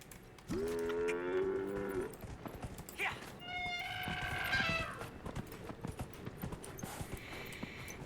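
A moose-like desert mount in Dragon Age: Inquisition lets out a long, loud bellowing screech followed by more honking cries, with hoof clatter and game ambience underneath.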